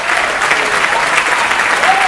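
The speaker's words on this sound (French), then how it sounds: "Vous pouvez de nouveau applaudir les membres du jury." Audience at a 2017 closing awards ceremony claps in a sustained, even burst of applause, dense and loud throughout.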